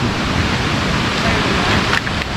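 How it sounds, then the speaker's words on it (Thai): A forest waterfall at the headwaters of a woodland park in Khun Han, Sisaket, Thailand, gives off a steady, dense rushing wash of water that stays unbroken throughout. "นี่เป็นน้ำตกนะครับ"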